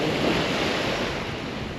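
Steady, broad wash of ocean surf on a beach at Sifnos, Greece, close and continuous, with some wind buffeting the microphone.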